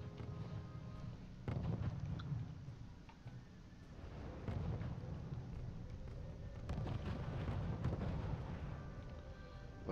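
Assault guns firing in a strategy war video game, heard as a steady rumble of repeated booming shots and explosions in three dense bursts across the span, with no talk.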